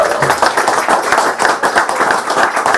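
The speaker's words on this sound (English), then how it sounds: "give yourselves a round of applause." Loud, dense clapping from an evening show's live audience, a busy rapid patter of many hands close by that continues steadily without talk.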